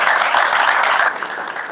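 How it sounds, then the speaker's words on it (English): Guests at a Secretary's Cup reception give director Ryan Cannon a round of applause, a loud, full burst of crowd clapping that eases off slightly near the end. "so nice round of applause for him."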